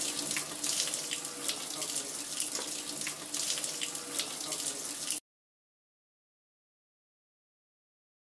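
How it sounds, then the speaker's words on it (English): A tap runs steadily into a sink while soap and water wash release agent off a silicone head cast, a continuous close splashing gush for about five seconds that then cuts off to silence. "we're going to take this into a sink area and wash all of the release agent off with soap and water"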